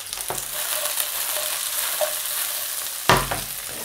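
Asparagus frying briefly in a pan with a little sunflower oil, giving a steady, close sizzle with a few sharper crackles and one louder clatter near the end, without any talking.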